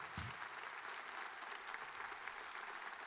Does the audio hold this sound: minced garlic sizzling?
no